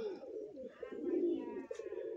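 Crowded coos from many pigeons of assorted breeds such as Nafsa, Malbai Punjab and Giribaz roll on in continuous low, warbling waves, near and fairly loud, without talk.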